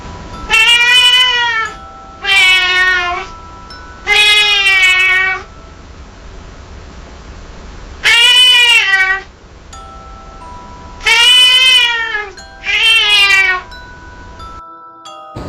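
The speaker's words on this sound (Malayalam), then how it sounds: "മകളുടെ മുറിയിൽ നിന്നും പൂച്ച കരയുന്ന ശബ്ദം" A cat crying at night, six drawn-out wailing meows in separate bursts with short pauses between, loud and close in a quiet room.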